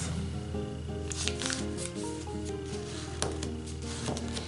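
Origami paper is folded in half for a lightbulb model, giving a continuous dry crinkling and rubbing rustle, close and steady, with a brief soft voice underneath.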